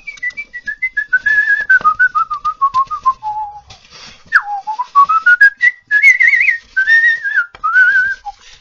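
A person whistles a melody alone, close and clear, in smooth gliding phrases with short pauses between them.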